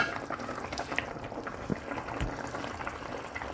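Spinach curry with fish simmers in a pot on the stove, a steady close bubbling and gurgling boil that runs continuously with no voices.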